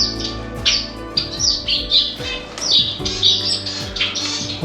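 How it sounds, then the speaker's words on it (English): Pet birds in a small home bird room squawk and chirp loudly at close range, a busy overlapping chorus of sharp calls and whistles repeating throughout with no talking. "This is my little bird room with all my birds."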